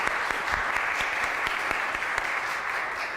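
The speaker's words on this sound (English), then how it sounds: "I feel like we have to clap first." Audience clapping in a church adult forum after a logo and rebranding presentation: dense, steady applause from a roomful of people, close and loud throughout, with no talk over it.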